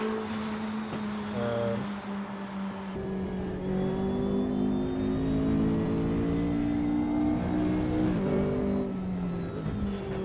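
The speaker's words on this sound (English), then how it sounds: "there's the sound there which imitates the V8 that you have in the 570" A McLaren 570 with its V8 engine, driven in the RaceRoom racing game, revs and surges continuously, its engine tone climbing and falling steadily and close up, with no talk.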